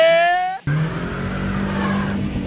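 A Lada Granta on summer tires pulls away with a steady engine roar and tire noise that follows a brief cut, close and loud, with no talk over it.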